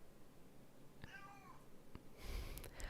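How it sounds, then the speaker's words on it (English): A cat meows once indoors, a single drawn-out cry that is faint and somewhat distant over quiet room noise, followed by a soft rustle. "I think a cat wanted to, I don't know, object or add to that one."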